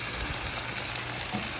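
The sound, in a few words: stirring chicken liver with pepper in a frying pan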